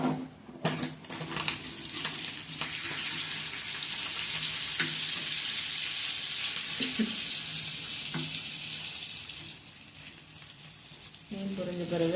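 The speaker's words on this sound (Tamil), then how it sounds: "மீன் பொரிக்கிறதுக்காண்டி தவாவில் வந்து நம்ம மீன் போட்டிருக்கோம்" Fish sizzles steadily in oil on a tawa while being fried for a home-cooked fish curry, with a continuous crackling hiss broken by occasional utensil clatter and faint background voices.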